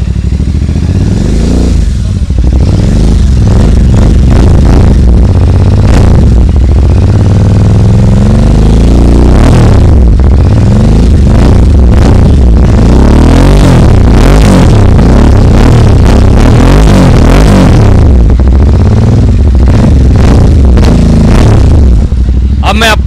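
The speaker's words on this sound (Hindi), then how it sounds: "अब सुनते हैं हैरिकेन एग्जॉस्ट की साउंड। ये है इसका मिडल साउंड," Royal Enfield Super Meteor 650 fitted with a Hurricane aftermarket exhaust, loud and close, idling then blipped repeatedly in sharp rev bursts, with talk heard briefly between the revs.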